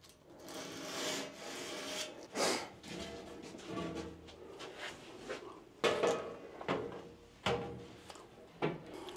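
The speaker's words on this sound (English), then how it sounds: "just barely fold the sandpaper over and only run one way" Sandpaper folded over and rubbed one way along an edge during a Proline range hood install, a soft, close scratchy rasping in uneven strokes with a few sharper scuffs, no talk.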